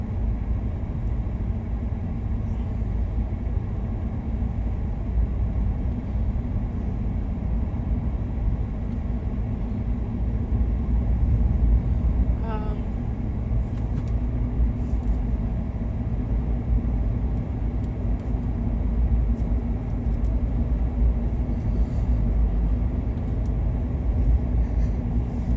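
A car cruises through downtown Tampa, Florida, with a steady low road and engine rumble that holds evenly throughout and no talk.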